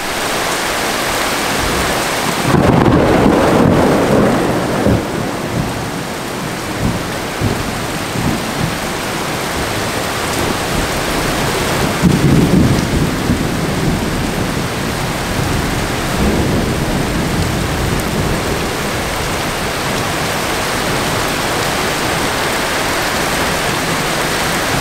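Heavy rain and rushing flood water swelling near a bridge during a storm, a loud continuous broadband roar with occasional deeper rumbling surges, close and unbroken, with no voices.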